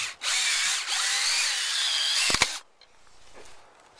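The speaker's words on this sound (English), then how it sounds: "cordless drill" A cordless drill driving screws into log newel posts whirs steadily for about two seconds, stops with a couple of sharp clicks, then a quieter, shorter burst of drilling follows.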